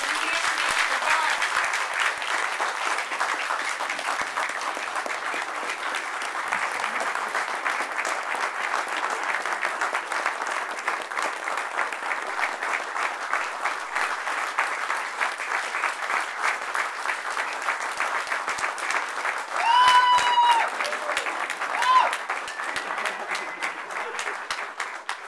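Steady audience applause at a New Hampshire National Guard event welcoming a major general to speak, sustained dense clapping from a large room that holds for about 25 seconds with a few cheers near the end.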